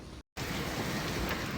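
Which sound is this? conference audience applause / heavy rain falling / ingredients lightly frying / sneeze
heavy rain falling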